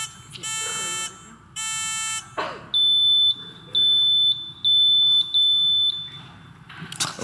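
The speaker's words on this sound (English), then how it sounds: "Let's do a quick buzzer check again." Science Bowl quiz buzzers are tested one after another at a middle school championship match: two long harsh electronic buzzes, then a series of five shorter high-pitched beeping tones, all loud and close in a quiet hall.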